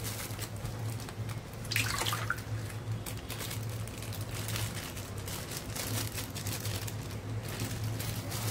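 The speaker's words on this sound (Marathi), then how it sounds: "यामध्ये सर्व पाणी काढून टाकायचं आहे।" Water drained from a batch of fresh oysters gives a steady, close rushing and trickling wash that runs unbroken throughout, with a brief brighter splash near the start.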